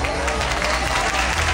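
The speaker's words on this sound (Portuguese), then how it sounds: "Muitas palmas." Audience applause at a children's fashion show runway, a steady dense patter of many hands clapping throughout the short stretch, moderately loud and continuous with a busy crowd feel.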